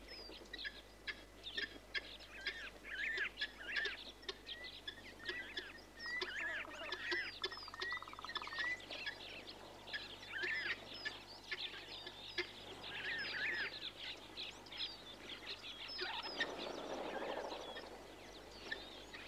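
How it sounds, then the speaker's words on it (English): Fulvous tree ducks and Cape teal call at an African waterhole: a steady chorus of overlapping whistles and honking calls, moderately close, running throughout. "The fulvous tree duck and the Cape teal just scoop them up wholesale with their bills."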